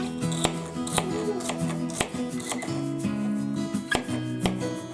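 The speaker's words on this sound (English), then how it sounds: "Also just going to try to cut the celery a little bit smaller this time than I did last time." A kitchen knife chops celery on a cutting board for a chicken gnocchi soup, landing about ten sharp, irregularly spaced chops, close and distinct over steady background music.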